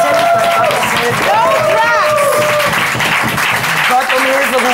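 A television studio audience at the German late-night talk show Inas Nacht on ARD claps and applauds loudly and steadily throughout, with voices and musical tones faintly mixed in under the applause.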